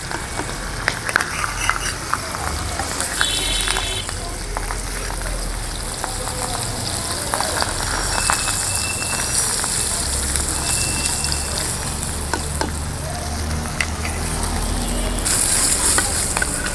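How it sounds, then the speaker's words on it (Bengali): Large Rui river fish frying lightly in oil in a village kitchen, a steady loud sizzle and crackle of spattering oil continuing without a break, with only faint voice sounds underneath. "মাছ হালকা করেই ভেজে নিব, কারণ বেশি ভাজলে শক্ত হয়ে যায়।"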